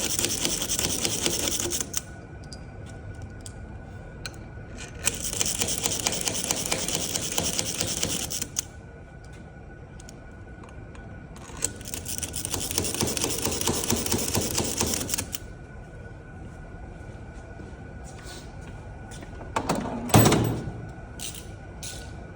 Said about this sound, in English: Yankee driver is great, just for speeding it up